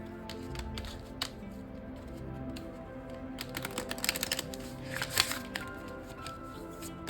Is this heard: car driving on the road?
no